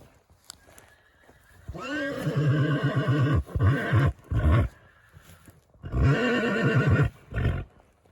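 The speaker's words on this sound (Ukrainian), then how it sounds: "Приїхали такі коні." Volodymyrivka breed horses whinny loudly nearby, two long shrill neighs with a short snorting burst between them.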